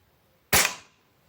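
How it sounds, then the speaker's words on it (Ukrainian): A single sharp, loud shot from a spring-powered air rifle, a sudden crack and a quick decaying tail, then quiet. "так, постріл відбувся"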